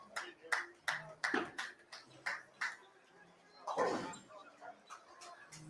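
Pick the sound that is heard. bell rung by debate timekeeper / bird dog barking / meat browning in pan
bird dog barking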